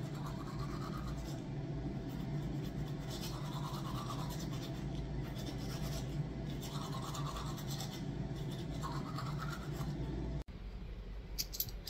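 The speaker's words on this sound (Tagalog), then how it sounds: "mag-toothbrush ko muna ako" Teeth brushed with a toothbrush give close, rhythmic scrubbing bursts in repeated strokes, steady for about ten seconds before stopping abruptly.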